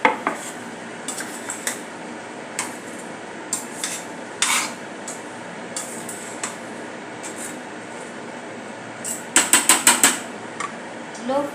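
Potatoes being stirred in a pan with a metal spoon during cooking of a festival offering, scattered clinks and scrapes that end in a quick burst of rattling strokes near the end, with no talk.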